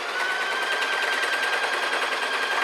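A sewing machine stitches stretched elastic onto the shoulder of a baggy strapped top, running in one steady, continuous rapid chatter at close range with no pauses or voices.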